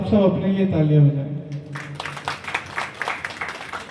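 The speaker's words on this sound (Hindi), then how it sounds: "मैं चाहूंगा एक बार आप सब अपने लिए तालियां बजाएं" Audience at a live stage event breaking into applause, scattered claps building after sustained vocal tones fade, with voices continuing over the clapping.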